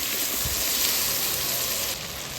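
Ginger garlic paste and green chilies are added to onions frying for ghugni, producing a steady, close, dense sizzle throughout.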